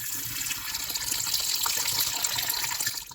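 Bajra and other whole grains being washed together in a vessel of water, giving a steady close splashing and swishing wash of water and grain that runs on without pause, with no talking.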